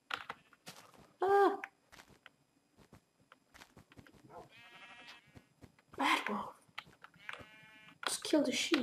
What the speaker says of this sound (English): Killed a sheep.